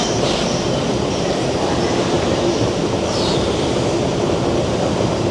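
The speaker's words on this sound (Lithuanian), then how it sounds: "Man patinka metro." A Seoul metro train rolls along with a loud continuous rumble and rattle of carriages, brief wheel squeals rising over the steady roar.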